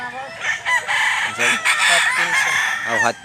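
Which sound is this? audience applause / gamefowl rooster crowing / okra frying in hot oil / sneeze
gamefowl rooster crowing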